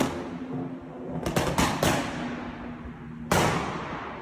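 A BMW M140i with an artificial exhaust tune fires a quick cluster of sharp pops and bangs, then one more loud crack after a pause, over a steady engine rumble.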